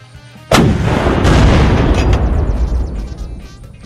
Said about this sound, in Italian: Proviamo a sparare un'altra cannonata.